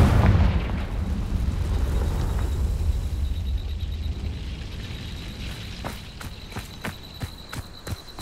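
A Confringo blasting spell explodes in the Hogwarts Legacy game with a loud, deep boom that rumbles and slowly fades, followed by sharp clicks and thuds close by, with no voices.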